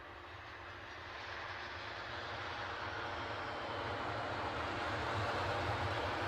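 An inbound KLM Boeing 737-800 airliner arriving from Amsterdam, its engines a steady distant roar that swells gradually louder as it approaches, with no voices over it.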